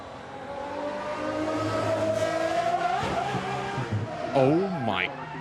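A 6.5-litre naturally aspirated V12 race car in DBR1 livery climbs the Goodwood hillclimb, its engine note rising steadily and then swooping through gear changes, heard from a distance under people talking.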